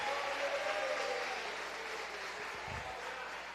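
A church congregation at a thanksgiving service claps together in a dense, steady roar of applause that fills the whole moment and fades slightly toward the end.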